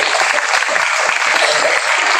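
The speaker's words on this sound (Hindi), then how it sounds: "आप लोगों की जोरदार तालियां।" A school ceremony audience claps loudly and steadily, dense applause filling the short stretch without a break.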